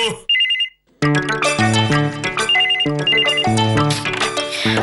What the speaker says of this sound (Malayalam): ഫോൺ എടുക്കൂ